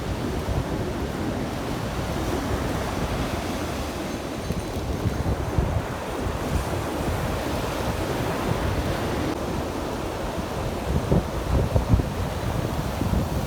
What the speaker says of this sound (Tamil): தண்ணி வந்து எவ்வளோ சந்தோஷமாக கடலை நோக்கி ஓடுது பாருங்க